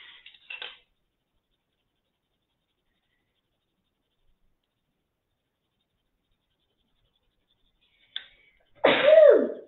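A single loud sneeze bursts out near the end, close and sharp, after a long stretch of near silence broken only by a brief faint rustle at the start.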